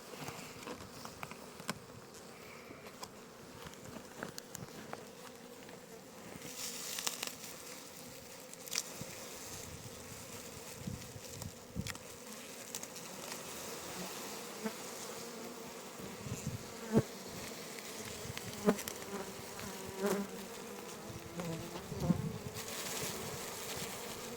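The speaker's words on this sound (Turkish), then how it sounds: "Arının yoğunluğunu görüyorsunuzdur şerbeti bayağı bayağı çekmiş" Dense, continuous buzzing of many honeybees close by at a syrup feeder, a steady droning hum with scattered louder passes and faint clicks, lasting throughout without speech.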